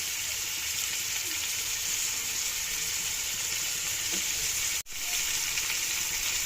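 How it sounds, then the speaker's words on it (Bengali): Potatoes marinated in lemon juice and spices frying in a pan, a steady loud sizzle throughout with one brief break partway through. "আর এখন আমরা এটাকে ভেজে দিচ্ছি"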